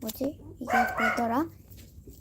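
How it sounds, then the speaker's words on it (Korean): A pet dog barks in a short run of yelps indoors during a stationery unboxing livestream, fairly loud and close, with a person talking before and after the barking. "아 제 강아지가 또 짖네요."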